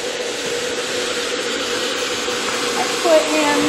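Garden hose water pouring steadily into a container while mixing papercrete, a continuous broadband rushing hiss at constant level from close by with no breaks.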